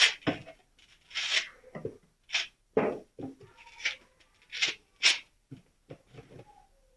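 Hand sanding with small contour sanding blocks, with repeated short scratchy rasping strokes in an irregular rhythm, close and fairly quiet with brief gaps between passes.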